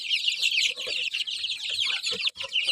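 Young day-old chicks from young breeding hens cheep in a dense, rapid chorus of high-pitched peeps, close and continuous, with a few softer low clucks beneath.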